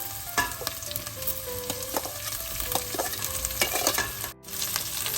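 Curry chillies drop into hot oil already holding fenugreek seeds and a leaf, giving a continuous close sizzle with occasional spoon scrapes and stirring knocks, briefly dipping quiet near the end before resuming.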